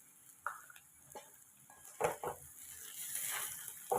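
Fried rice with beans and carrots is stirred in a pan, with soft scraping and clinking strokes of a utensil over a quiet sizzle, irregular and close, with no voices.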